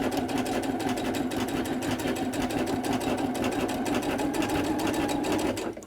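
A sewing machine stitches a seam on doll pantaloons, running in one continuous loud whirring rattle with a fast, even needle rhythm that stops abruptly at the end.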